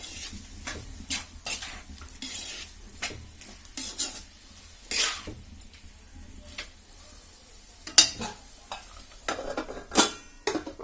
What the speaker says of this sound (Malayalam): നമുക്കൊന്ന് ഇളക്കി കൊടുത്തിട്ട് അടച്ചു വെച്ച് കുറച്ച് സമയം ഒന്ന് വേവിച്ചെടുക്കണം